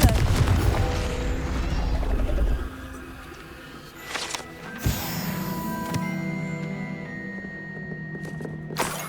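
Confringo fire spell cast in the Hogwarts Legacy video game, a sharp explosive burst with a whooshing fiery tail among ambient in-game sounds and bird calls.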